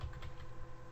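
Quick, faint keystrokes on a computer keyboard as a password is entered during a Windows domain join for a Citrix XenApp 6.5 setup, a short burst of soft clicks.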